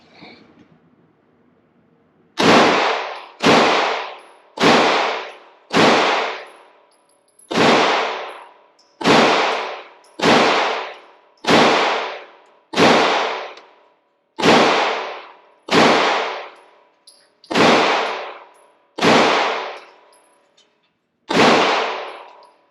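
Thirteen loud, sharp gunshots from the final magazine at a shooting range, fired one at a time with a steady rhythm about a second and a half apart, each ringing out with a short decay, close and clear with no talk.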